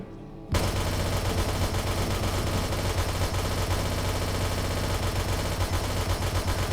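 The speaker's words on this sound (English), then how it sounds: "At the moment of this footage, the auto turrets weren't well optimized and didn't deal a lot of damage to the zombies." Auto turrets in the 7 Days To Die video game fire rapidly at zombies in a dense, continuous burst of gunfire that starts abruptly after a brief quiet moment and stays loud throughout.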